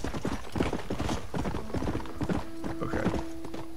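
Horse hooves clip-clop in a steady, close galloping rhythm while riding through a video game toward Fort Mercer, with a sustained tonal hum running underneath and no talking.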